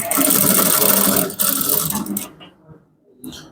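Sewing machine running continuously as it stitches a high-waist women's trouser, steady close whirring for over two seconds, a brief pause, then stopping with a short final burst.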